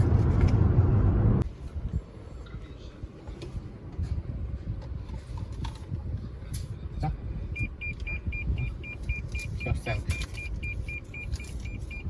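A car cruising on a toll motorway in Croatia between Zagreb and Makarska, a loud rumble at first, then a steady muffled cabin drone of road and engine noise with small clicks and a repeating electronic beep later.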